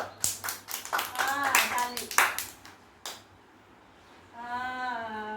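A group of young children claps together, producing a quick burst of close, uneven hand claps that lasts a few seconds before fading, followed by voices talking.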